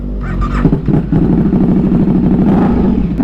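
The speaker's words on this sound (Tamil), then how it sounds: "வண்டியோட சவுண்டு கண்டிப்பாக நான் பேசுறது எதுவுமே உங்களுக்கு பெருசாக கேட்காதுன்னு நினைக்கிறேன்." A superbike's engine and exhaust run loud and close, with a throaty low rumble that rises slightly at the start, then holds a steady, powerful idle-to-mid drone with no speech.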